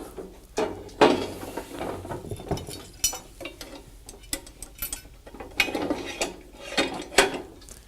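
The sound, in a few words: boom attachment slipped into the top of a lift carriage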